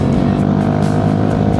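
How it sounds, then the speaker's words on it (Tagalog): A motorcycle engine strains under load while climbing a steep mountain road with sharp curves in Nueva Vizcaya on a charity ride, a steady loud droning rumble held throughout with no letup. "Ang lakas ng motor natin"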